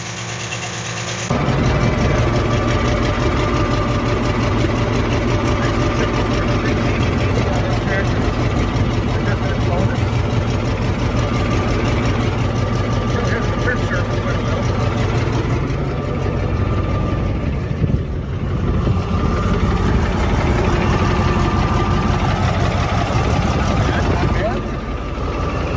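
A 1974 Steiger Bearcat tractor engine starts after a short silence and settles into a steady, loud, rough idle that carries on throughout, with people talking over it.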